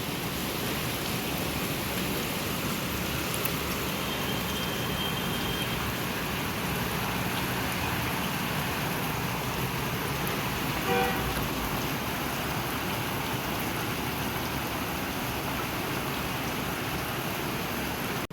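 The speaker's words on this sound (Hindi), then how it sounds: "मैं पता ही नहीं चला, तब तक बारिश हो गई।" Steady rain falls outside a house in a continuous, even hiss that holds at one level throughout, with no voices over it.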